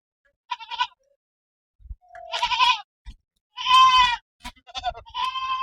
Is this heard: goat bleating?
yes